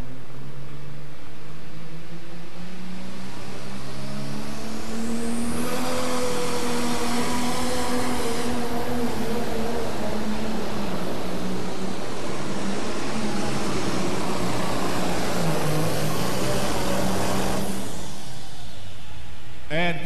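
A John Deere tractor's engine roars continuously and loudly during a tractor pull run at the 1997 National Farm Machinery Show, its pitch rising and falling as it strains, with an announcer's voice faintly beneath.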